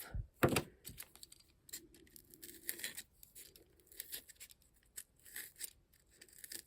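Scissors cut through scrap fabric at close range in a quiet room, an opening sharp snip followed by a string of irregular crisp clicks and soft rustles as the blades work through the cloth.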